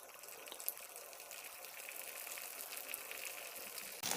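Idli pieces go into hot oil in a kadai for deep frying, giving a steady, close bubbling sizzle that holds throughout, with a sharper burst of frying noise near the end.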